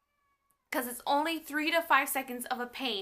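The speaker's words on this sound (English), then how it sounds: "I'm sorry that my cat's meowing." A pet cat meows several times in a row, loud and close, with a person talking at the same time.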